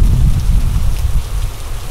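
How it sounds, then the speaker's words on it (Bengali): Heavy cartoon rain pours in a dense, loud hiss with a low rumbling storm underneath, lasting only a couple of seconds. "আকাশ ফেটে বৃষ্টি নামে। প্রচন্ড ঝড়ে তারা কিছুই দেখতে পাচ্ছিল না"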